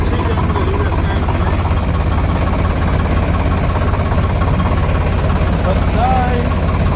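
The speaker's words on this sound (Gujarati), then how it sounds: "પહેલા સવારમાં ટ્રેક્ટરને આગળ લેવાનું" A tractor engine runs steadily at idle-like pace, a continuous low mechanical drone held at constant loudness throughout, with no break or change in rhythm.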